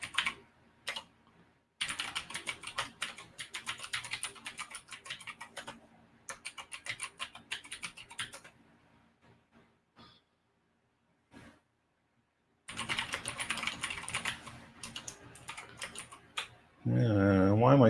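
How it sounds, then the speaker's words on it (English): Bursts of rapid computer keyboard typing during configuration work, close and clear, broken by a few quiet pauses, with a brief unrelated sound at the end. "Why am I typing this out?"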